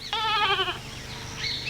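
A goat tethered on a rope gives one clear, wavering bleat nearby. Faint chirps follow, and no one speaks.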